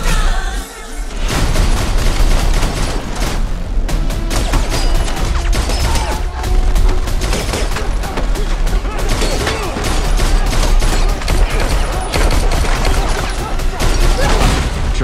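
Gunfire from the action film John Wick: Chapter 4, dense rapid bursts of shots and mechanical clatter layered with booming film score, loud and continuous after a brief quieter opening.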